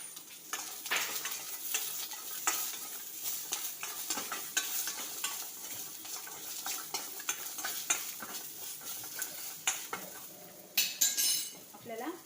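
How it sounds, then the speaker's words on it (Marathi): Green chillies roast in a pan while a utensil stirs and scrapes them, giving a run of clinking metal strokes over a soft sizzle, close and fairly busy throughout. "2 मिरच्या घेतल्यात मी, त्या पण आपल्याला भाजून घ्यायच्या आहेत."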